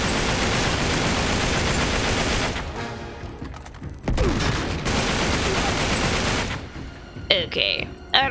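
Sustained video-game gunfire in Uncharted: Drake's Deception, a dense loud fusillade lasting a few seconds, then a brief lull and another extended burst, with scattered sharper shots at the end.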